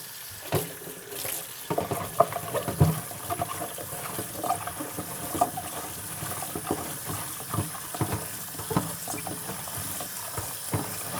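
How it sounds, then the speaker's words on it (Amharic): Cauliflower is washed under a running hot-water tap, with water splashing and clattering in a sink alongside irregular knocks and handling sounds close by. "አሁን አጥበዋለሁ። አገራችን ሲሰራ ገንፈል ተደርጎ ነው። እኔ ያንን ብዙ አልደግፈውም። ስለዚህ በሙቅ ውሃ ካጠብኩት ይበቃዋል።"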